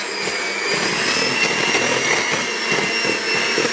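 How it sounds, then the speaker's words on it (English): A steady, high-pitched motorized whir of a hand blender on low speed mixing a bath bomb mixture runs continuously at a constant speed, loud and close, with no voices. "you just need a hand blender and put it on a low speed"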